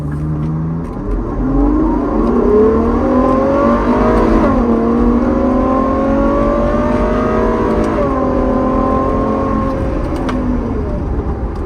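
A Ferrari fitted with a custom titanium exhaust revs hard in first gear toward redline, a loud sustained engine roar climbing in pitch, briefly dropping and rising again, close to the microphone with no talking.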